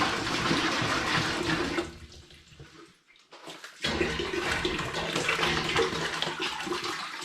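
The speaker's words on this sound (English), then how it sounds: "I'm going to begin by filling this big pan up with water" A big pan fills with running tap water for home brewing, a steady loud splashing gush that dips and quiets briefly in the middle before the heavy flow resumes.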